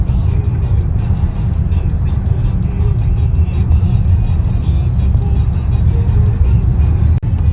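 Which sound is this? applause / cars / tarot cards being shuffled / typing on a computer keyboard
cars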